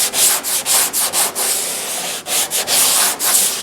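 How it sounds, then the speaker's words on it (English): Steady back-and-forth strokes of a long sanding board rasp across body filler on a car firewall, each pass separated by brief pauses, close and fairly loud with no talking. "So let me get some sanding done."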